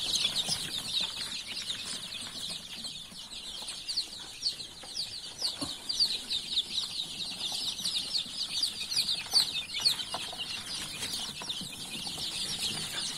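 Backyard chickens cluck and chatter continuously close by, with bursts of wing flapping mixed into the steady flock noise.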